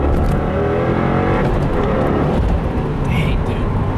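A 2015 Subaru WRX on an E85 tune accelerates hard in first gear, its engine a loud, close, sustained roar climbing steadily in pitch from inside the car, with a voice speaking over it.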